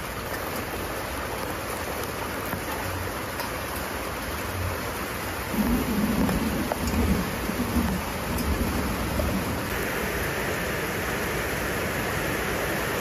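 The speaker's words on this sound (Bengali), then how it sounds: "ভাবলাম বৃষ্টি আসবে না, বৃষ্টিও এসেছে" Rain pours steadily outdoors as a constant broad hiss, growing slightly heavier and closer midway, with no voices and no distinct thunderclap.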